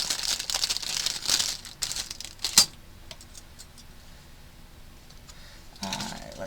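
Scissors cut paper scraps into tree pieces for a Nightmare Before Christmas journal page: close, crinkly rustling and snipping with sharp ticks, settling into quiet handling before a final burst of paper noise.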